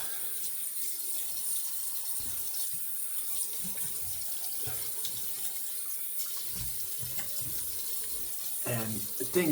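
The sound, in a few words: tap water running to rinse a razor after shaving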